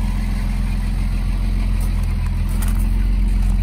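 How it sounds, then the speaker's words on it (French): A Mercedes 280 SL with dual exhaust idles steadily close by, a smooth continuous low rumble purring evenly throughout with no revving and no talking. "Vous avez ici l'occasion de voir l'échappement double. Voilà. Ça ronronne tranquillement."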